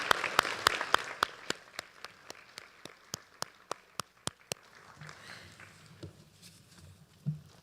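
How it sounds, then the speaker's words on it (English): Members of a small audience at a Rotary EarlyAct induction clap in a sparse, steady rhythm of distinct claps, fairly quiet in the room, fading out after about four seconds into low background murmur. "If we can please give them a round of applause."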